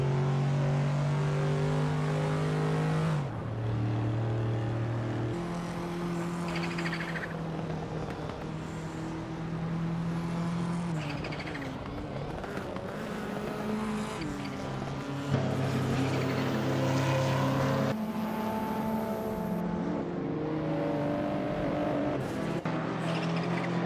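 Racing cars in a video game race closely together, their engines droning loud and steady, with the pitch stepping up and down as they shift and accelerate, one continuous roar with no voices.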